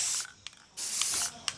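Aerosol spray paint can hissing in two sustained close bursts, with a short pause between and faint clicks at the nozzle, heard alone outdoors in Costa Rica.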